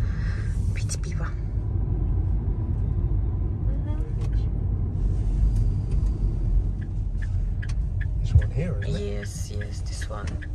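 A car drives along a road toward a Spanish restaurant in the evening, its steady low engine and tyre rumble continuous and close, with people talking quietly inside the cabin over it.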